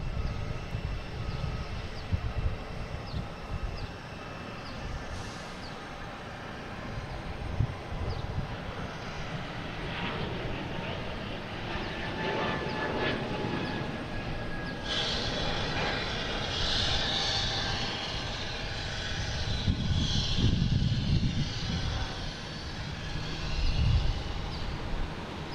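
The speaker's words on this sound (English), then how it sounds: "Next taking off is the JetBlue heading to Fort Myers" A JetBlue Airbus A220 taking off from Boston Logan bound for Fort Myers, with a sustained engine roar that swells and rumbles louder in the second half, heard at a distance with no talking.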